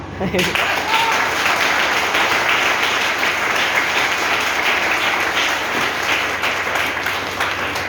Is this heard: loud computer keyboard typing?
no